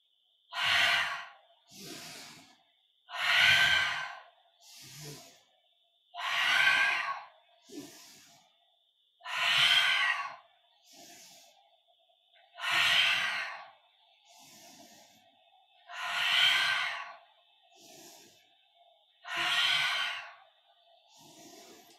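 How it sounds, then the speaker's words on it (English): Guided yoga breathing with slow, audible exhales and inhales, close and breathy, repeating in a steady rhythm about every three seconds, with quieter breaths between the louder exhales and no talking. "let's add in the breath that we've done intentionally with the action. So exhale, inhale, exhale"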